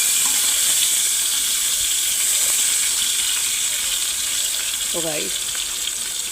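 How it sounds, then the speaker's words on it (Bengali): Potatoes fry in hot oil in a pan, with a steady close sizzle filling the clip, and one brief stirring scrape near the end. A voice speaks briefly. "এখন আমি নাড়িয়ে নাড়িয়ে ভালো করে ভেজে নিচ্ছি।"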